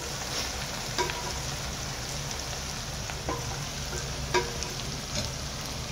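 Paneer and mushroom frying in oil in a pan for a paneer mushroom masala, a steady soft sizzle with a few light clicks of stirring.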